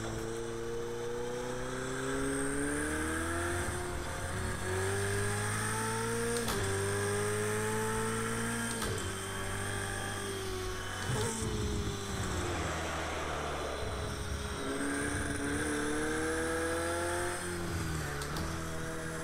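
Racing car engines in the Project Cars 2 video game, a loud continuous high-pitched engine whine rising and falling through gear changes, with the revving sustained across the whole stretch and no clear tire screech standing out.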